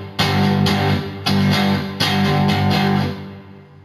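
A distorted electric guitar chugs through a song's riff, with several sharp chord attacks in a regular pulse, up close and loud, before the final chord decays away.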